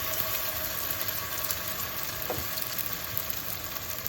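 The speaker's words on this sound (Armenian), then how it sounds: "սկսում ենք տապակել կոտլետները։ Բուսայուղ ենք տաքացնում թավայի մեջ" Zucchini cutlets frying in hot vegetable oil in a pan, a quiet, even, continuous sizzle with a faint clink midway and no voices.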